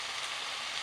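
Eggplant stir-frying in a hot pan, giving a steady, close sizzle with a bright crackling hiss that runs without a break.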